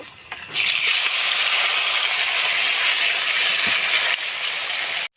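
Whole spices, including dried red chillies, cumin seeds, bay leaves and whole garam masala, along with ground spice paste, hit hot oil and sizzle loudly. The steady, bright hiss runs for several seconds before it drops slightly.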